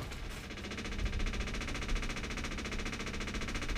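Fuel pump on a Saberwing homebuilt aircraft with a Corvair engine, heard during its first engine start after a swap to the other fuel tank: a dense, steady mechanical whir with rapid rattling pulses over loud engine noise throughout.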